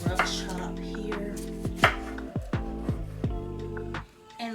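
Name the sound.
rough chopping of tomato with a knife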